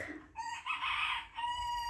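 A bantam rooster crows in the early morning, a single loud, close, drawn-out call with clear harmonic tones, heard alone.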